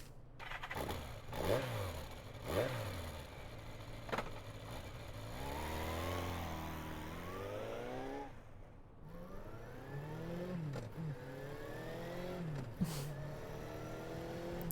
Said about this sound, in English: I slowly release the clutch and accelerate.